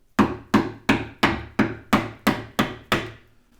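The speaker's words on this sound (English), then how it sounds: "I'm going to take this chisel and give it a couple of whacks here, so it'll be a little bit noisy" A hammer strikes a chisel driven into wood, nine sharp evenly spaced whacks, each a crisp loud crack with a short woody decay, close by and with no talking.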